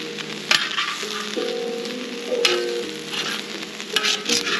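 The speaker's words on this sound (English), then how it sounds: "Shrimp on the barbie." Shrimp cooking over a camp grill on a winter camping trip, a close, steady frying sizzle with scattered pops and crackles and wavering tones, no talk.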